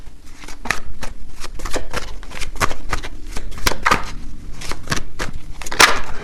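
Tarot cards are shuffled and drawn by hand in a rapid, close, crisp run of riffling flicks and slaps that continues steadily throughout, with no talking.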